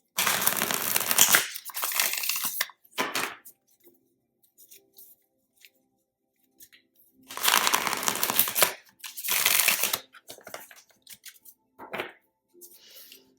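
Loud crackling riffles of a card deck being shuffled up close, in a few separate bursts with quiet gaps and small taps between them.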